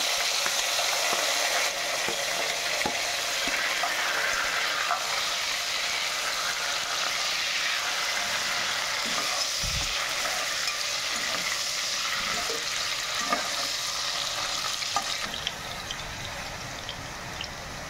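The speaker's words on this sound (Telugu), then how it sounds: "నూనె వేడెక్కిన తర్వాత ఉల్లిపాయ ముక్కలు వేస్తున్నానండి." Sliced onions hiss and fry in hot oil in a pan, a dense, even sizzle that holds steady throughout, up close with occasional faint clinks and no talking.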